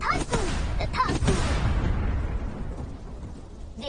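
An anime explosion-magic effect opens with sharp bursts, then gives way to a deep, booming rumble that slowly fades.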